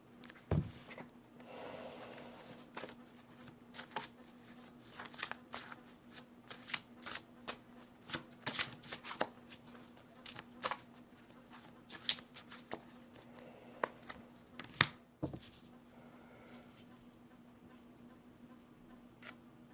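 Tarot cards being shuffled in a quiet room, a steady run of soft papery riffles and flicks with a few sharper snaps, fairly close and with no talking.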